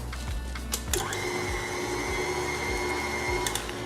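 An electric mixer beating white cake batter in a bowl gives off a steady motor whine with a faint rising tone and a few light knocks. It is close and constant over a few seconds.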